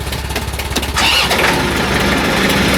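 A 110 TLB tractor engine cranks briefly with rhythmic pulses, then catches and runs into a steady loud idle close by.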